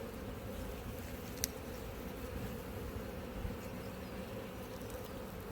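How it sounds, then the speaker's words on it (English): A dense, continuous drone of many honey bees buzzing together as they rob open honey at an apiary, steady and moderately loud, with no voices. "you look at the bees from next door raiding this open honey"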